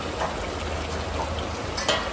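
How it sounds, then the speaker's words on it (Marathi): Steady hiss of a tempering crackling in hot oil for a mutton dish, a continuous sizzle with a few brief spatters, close and moderately loud. "फोडणी द्या"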